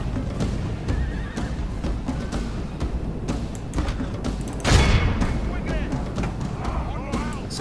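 Medieval II: Total War battle as a Russian faction, with horses whinnying over a dense clamor of combat, hooves and distant booms, and someone talking throughout.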